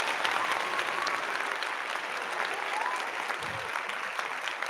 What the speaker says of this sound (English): I'm gonna give you a round of applause, bro.